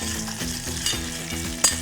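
Whole black pepper and spices sizzle and crackle in hot oil in a pan, a steady close frying hiss with occasional stirring scrapes, heard with no talking.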